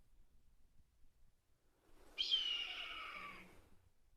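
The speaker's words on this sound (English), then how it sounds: "Sounds like there's a red-tailed hawk calling nearby." A single drawn-out raptor scream from a red-tailed hawk nearby, one harsh descending call lasting about a second over a quiet outdoor background.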